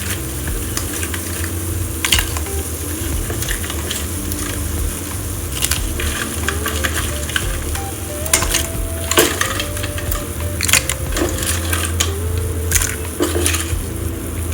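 Crab pieces are tipped into a pan of well-roasted masala for a spicy Chettinad crab curry and stirred, giving a steady close sizzle with scraping and clatter throughout.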